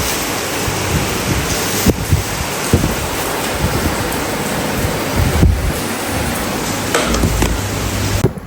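Rain falling outdoors in a steady, dense hiss with occasional louder spatters and thumps, continuous throughout with no talk.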